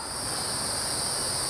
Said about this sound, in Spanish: Cuando decimos play, empiezan a cantar las chicharras.